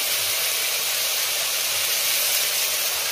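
Chili paste hits hot oil in a pan over a raised flame, the base for Bengali doi maach (fish in yogurt): a loud, steady, continuous hiss with no voices.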